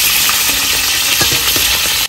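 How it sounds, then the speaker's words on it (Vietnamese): Pork sizzling in oil in a pan, a loud steady frying hiss with faint clinks and stirring sounds beneath, no voices. "mình để thịt vô mình chiên."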